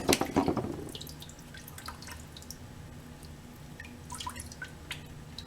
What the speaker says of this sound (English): You can see it dripping on the floor over there.